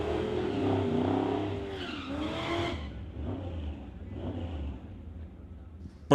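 Drag racing cars doing burnouts at a Doorwarz Real Street event, a loud sustained roar of engines and squealing tires that fades to a lower rumble, heard alone from a distance.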